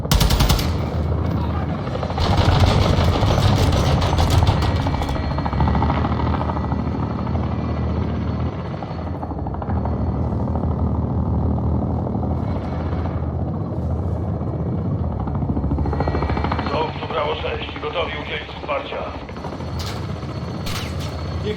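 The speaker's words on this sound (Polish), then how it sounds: "helikopter rozstrzela ten pojazd, Joe!" A loud, continuous helicopter rotor thrum runs throughout Call of Duty: Modern Warfare II, mixed with bursts of rapid gunfire and shifting engine noise in a dense game soundscape.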